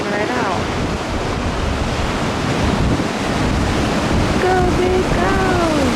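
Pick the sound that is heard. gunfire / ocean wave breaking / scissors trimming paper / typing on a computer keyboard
ocean wave breaking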